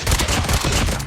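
Dense, overlapping gunfire from an SVD sniper rifle in a team deathmatch shooter game, loud and continuous over about a second with no speech.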